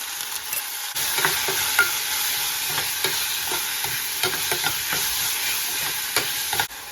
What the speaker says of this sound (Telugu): ఇప్పుడు నేను రఫ్గా తరిగి పెట్టుకున్న ఉల్లిపాయ ముక్కలు వేసేస్తాను